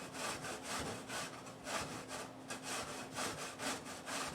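Zucchini rubbed against a grater in quick, even back-and-forth strokes, a close, steady scraping rhythm heard alone.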